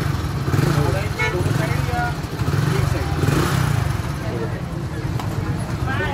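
A Hero Splendor Pro BS4 motorcycle, its engine repaired after a fault, runs at a steady, close idle with a throbbing mechanical chug, while someone talks over it.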